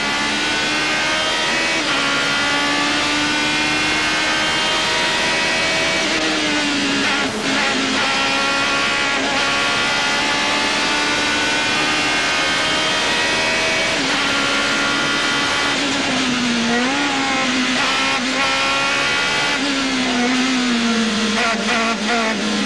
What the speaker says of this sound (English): Now listen to this engine whine.